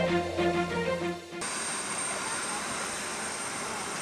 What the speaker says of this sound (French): l'avion en provenance de Ouagadougou se pose sur le tarmac de l'aéroport de Bobo-Dioulasso